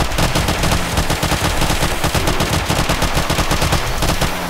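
Rapid, continuous automatic gunfire fills the whole stretch, loud and close, as a player sweeps fire across a feral horde in the game 7 Days to Die (Age of Oblivion mod), with no speech.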